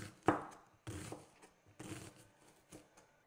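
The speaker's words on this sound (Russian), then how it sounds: "мы берем один лук и нарезаем его на такие кусочки, какие хотите" Onion being chopped with a knife on a board, a handful of sharp, close blade strikes in an uneven rhythm, quiet and without talk.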